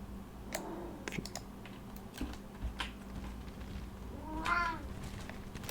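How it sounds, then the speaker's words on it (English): A pet cat meows indoors, a rising, wavering cry near the end over a steady background hum and scattered keyboard clicks, with a few brief fainter sounds earlier. "My cat is severely unhappy with me, how I perform the battle."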